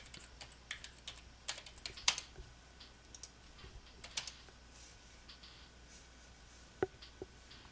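Someone types on a computer keyboard: sparse, irregular key clicks, some sharper than others, close and fairly quiet against a low background hiss.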